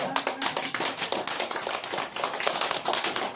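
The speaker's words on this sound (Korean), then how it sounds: "여기서 박수 한번 치자" A crowd applauds steadily, dense overlapping clapping that stays loud and even throughout with no voices.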